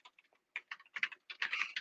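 Keys on a computer keyboard, including the tab key, are pressed in a quick series of close clicks: a few sparse taps first, then denser bursts of keystrokes.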